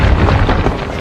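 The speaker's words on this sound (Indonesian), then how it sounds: "Untungnya tak lama bom yang dipasang Hobbs meledak." A bomb detonates in an action film, part of the destruction of a tower at an enemy headquarters. The blast is a loud, dense, sustained roar of rumbling debris with no clear onset, filling the whole second.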